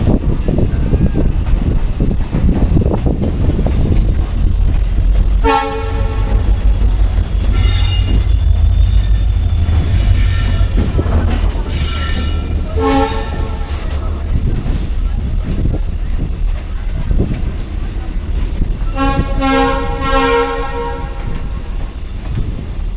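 A Bandel local passenger train passes, rumbling loudly and continuously, its wheels clattering and squealing, with several blaring horn blasts and faint voices underneath.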